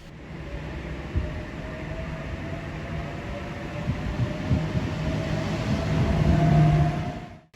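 A New Intercity Fleet passenger train rumbles steadily past with a rising hum and rattling wheels, growing louder before fading at the end.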